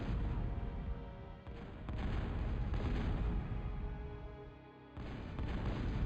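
Heavy Big Bertha long-range artillery from the strategy game Total Annihilation, a continuous loud rumble of booming blasts with a brief dip in intensity near the middle.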